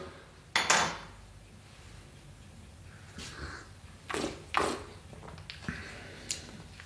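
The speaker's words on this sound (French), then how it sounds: "Je remue un petit peu." Coffee being stirred in a French press: a few scattered clinks and scrapes of a utensil against glass, faint and close, with quiet gaps between them.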